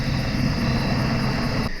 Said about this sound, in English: We got a chopper coming by.